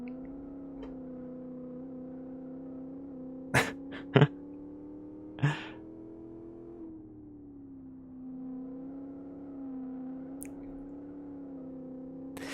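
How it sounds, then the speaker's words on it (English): Modded V8-powered car in the racing game Live For Speed, a steady engine drone holding a fairly constant pitch throughout, with a few brief sharp clicks and pops near the start and no talking. "Love the V8 sounds."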